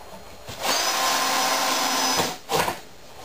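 A power drill drives small countersunk screws into a child's wooden rocking chair: one close, buzzing burst of about a second and a half, followed by a short second whir.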